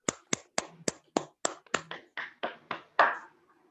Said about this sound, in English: great round of applause for him.